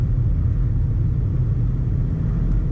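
A Maserati Levante SQ4 SUV engine during a test drive gives a deep, steady, loud rumble, heard from inside the car with no voices.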